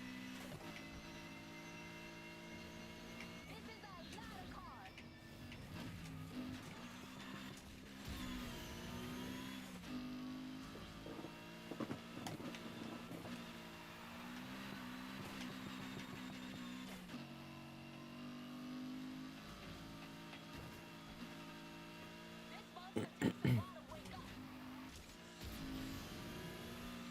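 A car engine revving and accelerating in the racing game NFS Heat, a sustained droning roar that rises and falls through gear changes, with a few sharp clatters near the end.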